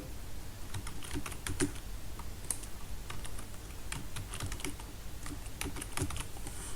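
Steady typing on a computer keyboard while working in an Excel spreadsheet, with clustered keystrokes and occasional louder key hits, close and alone, with no talking.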